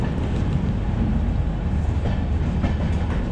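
The Gatimaan Express pulls into a station in India with a loud, continuous rail rumble and wheel clatter close by.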